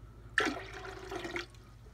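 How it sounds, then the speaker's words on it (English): Water poured into a pressure canner for home-canning milk: a short, quiet splashing pour of about a second that starts abruptly and then tapers off, heard alone. "I'm going to put a little bit more water in there so we get it up"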